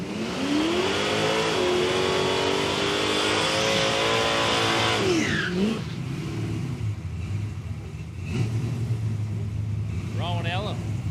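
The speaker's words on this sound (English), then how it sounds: "Out there hot lapping already in the Centura." Holden Centura race car at Palmyra Raceway drag strip, its engine loud and close, holding a steady high rev then dropping away as it passes; commentary runs over it, and another car's engine surges faintly later.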